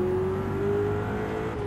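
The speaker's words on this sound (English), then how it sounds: "Those turbos want to spool up." A turbocharged car engine spooling up in Gran Turismo 7, a steady rising drone with a thin turbo whine, heard alone without talk.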